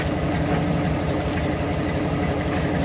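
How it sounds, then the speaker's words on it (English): A car engine idles through its mufflers with the exhaust cutouts closed, giving a steady, close, deep rumble with a constant low throb and no talking. "It's idling now through the mufflers."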